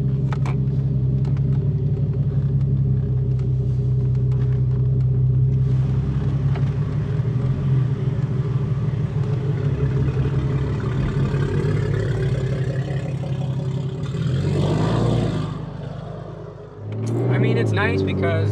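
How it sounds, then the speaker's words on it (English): A fully built 900 hp A90 MKV Toyota Supra drives on the street, its steady low engine rumble and drone running nearly throughout, easing off and dipping near the end before picking back up. "getting in the car and go for a little daily drive in the A90"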